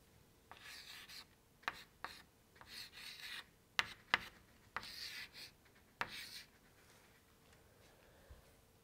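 Pen or pencil writes an equation by hand on paper, giving soft scratching strokes broken by several sharper taps and clicks, very quiet and close, fading to near silence toward the end.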